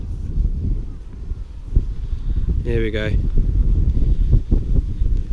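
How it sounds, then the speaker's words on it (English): Wind buffets the microphone outdoors in a field during a UK metal detecting dig, a steady low rumble under the whole stretch while someone speaks briefly. "sorry about the wind, if you can hear that."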